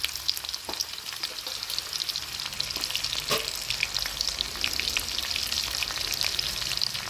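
Onion and green chilli fry in hot oil in a home kitchen pan, giving a steady, close sizzle dotted with sharp spits and crackles, with no voices.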